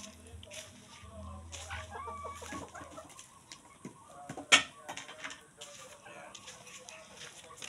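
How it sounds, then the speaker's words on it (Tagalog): Farmyard chickens on a rural property in Pampanga clucking busily at feeding time, with a low hum early on and a sharp clatter midway, plus faint voices in the background. "magpapatuka tayo ng mga alaga nating mga manok"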